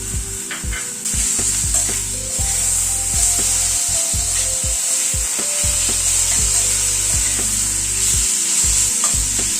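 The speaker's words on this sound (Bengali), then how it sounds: "টমেটোটা দিয়ে একটু নাড়াচাড়া করে ঢেকে দিচ্ছি" Diced tomatoes frying with spices in a pan for a chicken dish, a steady bright sizzle with repeated stirring and scraping knocks close by, no talking.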